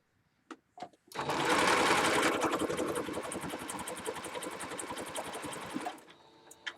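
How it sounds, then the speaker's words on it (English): A sewing machine runs loud and steady for about five seconds with a fast rhythmic stitching pulse, after a few short clicks and handling noises. It then stops, leaving a faint whir. "Got my thread caught in the sewing machine."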